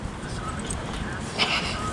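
A bull breed puppy gives a few soft, high whimpers and a short yip, close by and brief, while a person talks encouragingly over it.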